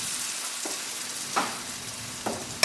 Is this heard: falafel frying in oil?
yes